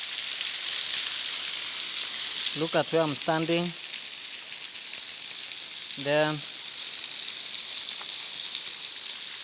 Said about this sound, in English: So it's like rain. A lot of water coming from above.